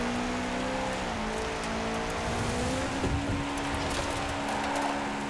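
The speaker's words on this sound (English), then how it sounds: "I can hear their engines back there." In Forza Horizon 4, rival race car engines hum behind a 2016 Subaru rally car, a steady droning tone that shifts pitch as the cars change speed, over constant road and tire noise.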